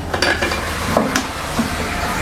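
Food frying in hot oil while being stirred in a pan, a dense sizzling hiss with a few scraping and clinking utensil sounds, close and loud, no talking.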